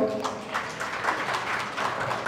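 An audience claps steadily for the press and journalists at a stage promotion event for a Bengali film, a dense, moderately distant applause with faint voices mixed underneath.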